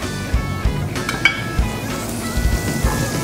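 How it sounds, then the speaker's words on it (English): Butter browns in a hot sauté pan with a steady sizzle, and soft clinks of metal sound near the pan at intervals. "taking your butter, melting it, and browning it in the pan"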